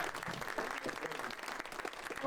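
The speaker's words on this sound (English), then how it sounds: "We'll give them a big round of applause, please." A festival audience in New York applauds the presenting sponsors, a brief, fairly faint patter of clapping mixed with crowd murmur.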